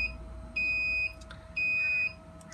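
Two sustained high electronic beeps sound a second apart over a faint steady hum, like a smoke detector chirping.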